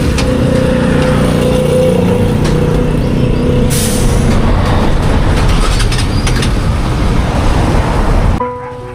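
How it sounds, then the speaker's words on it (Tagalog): An engine warms up with a loud, steady low rumble and a breathy hiss that hold constant for several seconds before cutting off abruptly near the end. "Painitin pa daw yung makina."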